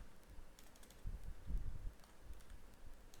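Soft keystrokes on a computer keyboard come in a quick, uneven burst, quiet and close, with no voices.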